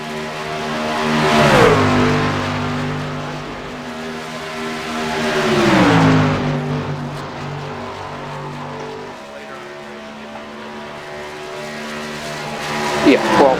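Race cars from an iRacing sim race on the opening lap, engines revving and swelling as they pass, with tire squeal and gear changes, loud and continuous beneath a talking voice.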